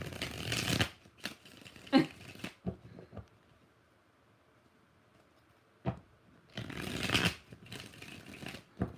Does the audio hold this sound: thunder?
no